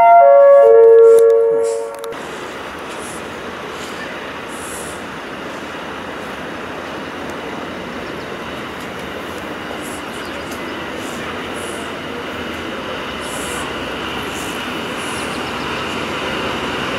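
A train pulls into a platform at Łowicz Główny station. A brief chime gives way to a loud, continuous rumble of wheels and carriages that holds steady to the end.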